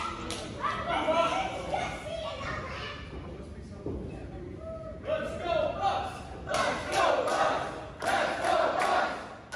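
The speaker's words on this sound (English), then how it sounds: "Crowd really getting behind the bus here at the CCW Arena." Wrestling crowd at the CCW Arena roars in surges under commentary, dipping quiet around the middle and then rising into loud, sustained cheering.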